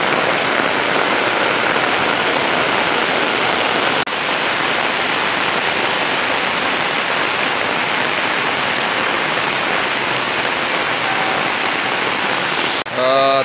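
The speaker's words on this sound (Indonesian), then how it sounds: "Tampak hujan ya di sini," Heavy rain pours down steadily and loudly at a flood-prone house beside a river, a dense, continuous hiss that fills the whole stretch, with a brief disturbance near the end.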